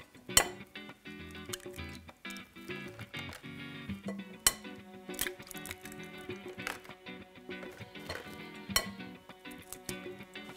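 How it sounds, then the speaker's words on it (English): Eggs being whisked in a bowl for a Mexican chorizo frittata, with a steady run of clinks and taps from the whisk against the bowl and a few sharper knocks, close up and with no talking. "So I'm gonna whisk together 10 eggs."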